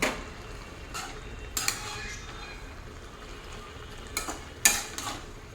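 Vegetable chorchori with bitter gourd, greens, sweet potato, brinjal, potato and lentil dumplings being stirred in a pan, giving a few scraping, clattering strokes against a low steady cooking hiss, with quiet gaps between them.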